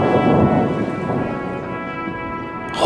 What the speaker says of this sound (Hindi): पहली बारिश की बूंदें इन्हें भी भाती हैं।